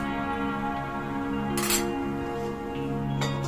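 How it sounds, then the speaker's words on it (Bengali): Papaya curry being stirred in a pan, a metal spoon scraping and clinking against the pan in a few sharp strokes over a steady background hum. "ভালো করে একটু আরেকবার মিশিয়ে দিচ্ছি"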